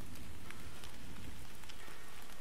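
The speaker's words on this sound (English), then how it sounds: "Oh, it's raining outside, guys." Rain patters steadily on surfaces outside in the video game Dreams on PS5, a dense, even hiss of drops with scattered sharper taps and no voices.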